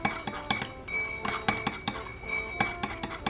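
A teaspoon stirs fruit spread into a cup of herbal fruit tea, with repeated close metallic clinks against the cup wall at an uneven rhythm.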